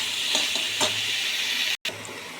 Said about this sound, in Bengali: ছাতুটা ভালো করে নেড়ে চেড়ে ভেজে নেব লাল লাল করে